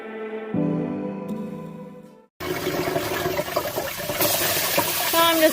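Water runs into a rock tumbler barrel, a steady splashing fill that begins abruptly after a brief humming tone and continues with bubbly, gurgling texture to the end.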